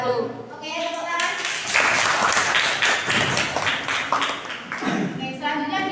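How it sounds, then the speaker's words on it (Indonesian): A group of people in a classroom gives a brisk round of clapping after a group presentation, with a voice speaking just before and after. "tepuk tangan"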